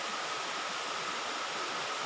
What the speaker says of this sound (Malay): Dekat atas ni, air terjun tingkat keempat ni.